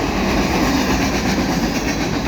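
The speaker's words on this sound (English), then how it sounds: "a ballast train here on the Canadian Pacific, Kansas City, in Dorval." A CPKC (Canadian Pacific Kansas City) mixed freight and ballast train pulled by five engines passes close by in Dorval, a loud continuous rumble of rolling cars with clickety-clack wheel noise.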